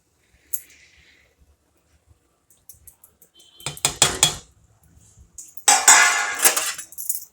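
Gram flour batter stirred in a cooking pot, with scattered metallic scrapes and clinks of a spoon against the pot, building into denser bursts of scraping and knocking toward the end, without talk.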